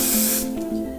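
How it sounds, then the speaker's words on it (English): A close, sharp hiss of an aerosol hair spray bursts out for about half a second, then fades into quieter background hum. "I'm going to use some Enjoy hair finishing spray"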